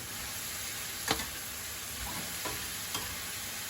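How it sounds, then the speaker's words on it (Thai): Black pepper stir-frying in a hot pan gives a steady, even sizzle with a few faint stirring scrapes, no voices. "พริกไทยดำ หนึ่งช้อนพอผัดให้ร้อนก่อน"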